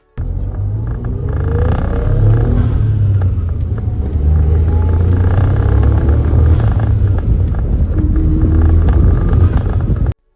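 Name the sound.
car drivetrain vibration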